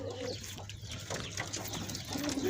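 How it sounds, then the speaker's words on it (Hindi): Pigeons coo softly nearby in low, repeated throaty calls, set against a faint steady hum and background noise. "ये कबूतर ही वे जी।"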